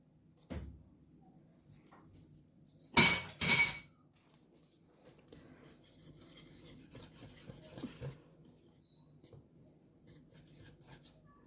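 Cocoa powder, 25 grams, is mixed into a bowl of dry ingredients for red velvet cookies: a soft knock, two loud clattering bangs, then a stretch of quiet, uneven scraping and stirring.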